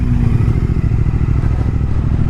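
A 2019 Triumph Speed Twin motorcycle idles and rumbles through its exhaust with a deep, steady, throbbing pulse, close by and loud, and no voices are heard.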